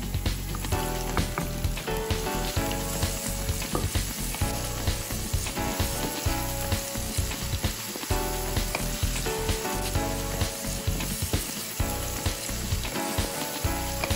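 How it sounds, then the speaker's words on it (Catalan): Mushrooms, including ceps, fry with onion in a pan for tagliatelle, producing a loud, continuous close-up sizzle with occasional stirring scrapes throughout. "I ho poso a bullir amb la ceba, ai, a coure amb la ceba."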